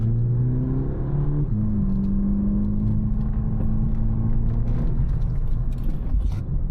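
Turbocharged 2.0-litre engine of a VW Polo GTI in sport mode, heard from inside the car as it revs and accelerates, a deep steady drone climbing in pitch through gear changes, loud and continuous.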